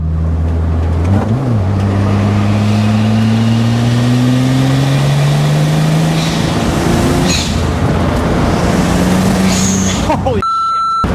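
A BMW E30 fitted with an N54 engine accelerates hard, its loud engine note rising in pitch through the gears with a steady roar, and a voice speaks briefly over it near the end.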